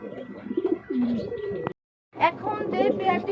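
Pigeons for sale coo in short, throaty bursts close by, with a brief gap partway through and someone talking over the calls.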